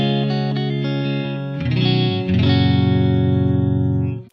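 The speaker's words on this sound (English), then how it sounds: "this is what the guitar sounds like without any effects." Clean electric guitar through a Mesa JP2C amp and a custom 2x12 cabinet with no effects, chords strummed and left to ring, a lower chord sustaining steadily with slight tremble, loud, close and alone.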